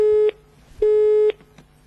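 A telephone busy signal plays after a caller fails to hang up: a loud steady tone pulses on and off in an even rhythm, about half a second on and half a second off, with no voices.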